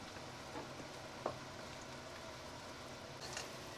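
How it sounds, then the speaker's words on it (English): Egg devil mince mixture with chopped coriander frying in a pot, a faint, steady sizzle with a few soft stirring taps and no talking. "fry them together with the rest of the mince"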